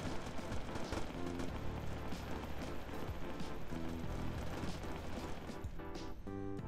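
Dense, sustained gunfire and crashing from a War of the Worlds video game aimed at the player's character, a steady loud barrage of shots and impacts filling the whole stretch with little letup.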